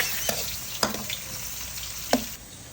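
Tomatoes sautéing in a wok, a steady frying sizzle broken by a few sharp utensil clinks and scrapes, close and moderately quiet with no voices.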